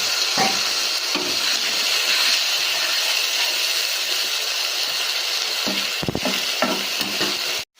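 Ground spice paste sautéing with potatoes in hot oil, a loud continuous sizzle with occasional scraping stirs and clinks of a spoon against the pan near the end.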